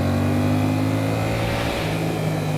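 A Yamaha MT-07 two-cylinder motorcycle accelerates on a winding mountain road. Its tight, steady exhaust note sounds close and fairly loud, with no talking.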